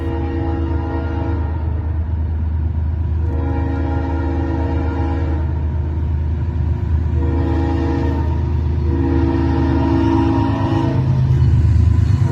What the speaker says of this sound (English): we see M560 with CSX 1776 leading